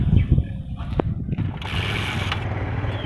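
Heavy machinery at work on a bridge construction site along the Dhunaguri side, a loud mechanical grinding with a sharp clank, then a sustained engine and equipment drone, close and continuous.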